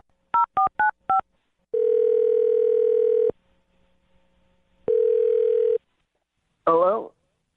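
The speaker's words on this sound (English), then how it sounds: "I think it is the perfect time to dial the phone number." Four quick DTMF keypad tones as a telephone number is dialed, followed by two long steady ringback tones separated by a pause, then a short snippet of a voice answering.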